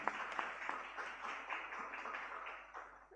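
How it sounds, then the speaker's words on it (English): Brief clapping from a university postgraduate conference audience, moderately quiet and somewhat uneven, with a couple of sharper claps early on. "Please applause"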